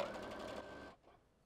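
Sewing machine stitching a button-down shirt at the shoulder seam: a steady, fast mechanical whir runs for most of a second, then stops abruptly and leaves faint room noise.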